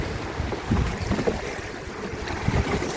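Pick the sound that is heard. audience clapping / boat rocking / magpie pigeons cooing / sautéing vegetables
boat rocking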